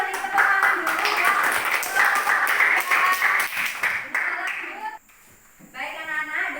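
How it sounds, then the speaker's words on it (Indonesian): Schoolchildren applaud in a classroom, a dense, steady patter of many hands clapping close by for several seconds, then breaking off abruptly before a brief second burst resumes. "beri tepuk tangan dulu ya"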